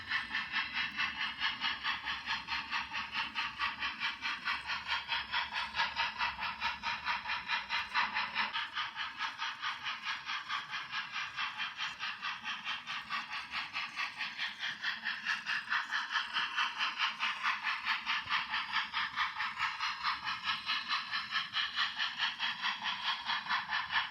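A model railway train runs steadily along the main line of a layout with a continuous quiet rattling and hiss, a fast even clicking rhythm persisting throughout with no voices.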